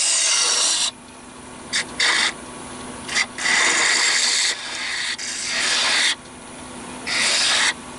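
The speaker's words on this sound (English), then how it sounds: "now I'm just using a spindle gouge to somewhat replicate what I saw Cindy make" Spindle gouge cutting spinning wood on a lathe, a series of bright hissing, scraping cuts in bursts of about a second each, separated by a quieter motor hum, close and loud.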